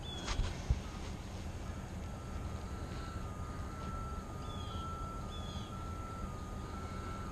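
Outside the woods, a distant bus or heavy vehicle rumbles as a low, steady drone, with a faint thin tone and a reversing beep running over it and a couple of soft knocks near the start.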